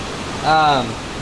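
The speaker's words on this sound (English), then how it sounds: "Please excuse the rain. Apparently there's a hurricane coming through." Rain from an approaching hurricane falls outdoors during engine bay cleaning, a steady broadband hiss filling the background, with a brief tonal voice-like sound rising over it midway.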